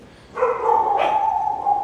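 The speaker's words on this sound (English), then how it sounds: "All my dogs are barking." A dog barks and howls in a kitchen, one sustained drawn-out cry with a brief rise partway through, fairly loud and close with no talking over it.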